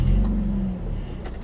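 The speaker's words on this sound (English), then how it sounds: "You can start the car." A car engine turns over and catches with a loud low rumble that settles into a steady idle, heard close up from inside the car with no talking.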